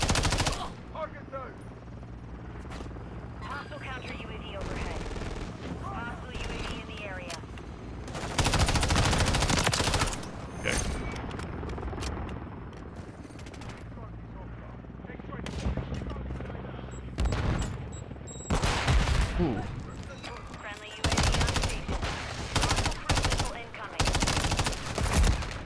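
Automatic MTZ-556 rifle fire in Modern Warfare 3, loud repeated bursts of rapid shots with gaps between them, mixed with game effects and occasional talk.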